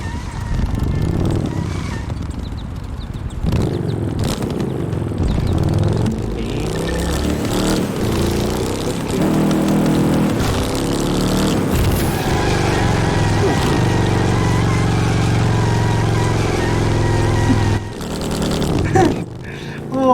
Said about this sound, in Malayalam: എക്സോസ്റ്റ്.